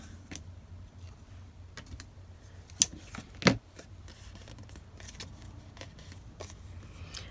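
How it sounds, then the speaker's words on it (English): Non-stick coated scissors trim scrapbook paper in a few quiet snips, with two sharper, louder cuts standing out over a soft background of faint handling noise. "And then I will trim this."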